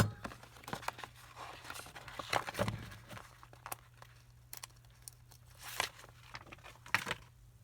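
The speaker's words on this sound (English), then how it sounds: "I'm going to go ahead and cut a piece of the fence off" Scissors cut a paper fence embellishment from a business card: quiet, uneven snips and crinkly paper rustling come in irregular bursts, close up and soft, with no speech.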